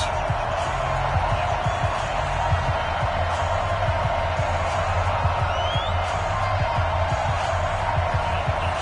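Football video game stadium crowd for a Denver Broncos versus Baltimore Ravens match, a steady dense roar of cheering with scattered whoops that holds an even level throughout.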